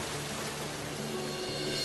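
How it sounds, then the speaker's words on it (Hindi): A steady, dense wash of heavy rain building toward a storm, constant and fairly loud with no break and no voices. "बरसात तो रुकने का नाम ही नहीं ले रही थी।"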